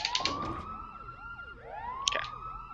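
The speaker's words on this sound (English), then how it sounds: "So now we're getting out of the sirens, finally." Wailing electronic sirens sweep up and down continuously in Pokémon Colosseum, layered tones rising and falling with a brief sharp burst partway through, fairly loud and steady with no talking.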